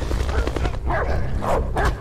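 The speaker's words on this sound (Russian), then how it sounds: "Ой-ой-ой, нет, собака." Dogs in the video game Beyond Two Souls bark and yip close by in a rapid run of sharp calls with whimpering tones, loud and punchy over a rumbling game backdrop.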